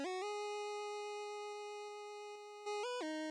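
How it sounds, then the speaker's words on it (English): A music track run through an Echo Melt plugin with tape saturation, chorus and delay, giving a steady, sustained synth tone with rich harmonics and a slight wobble that shifts pitch near the end, loud and alone. "It's just kind of degrading the sound a little bit, rolling off the highs just a tad."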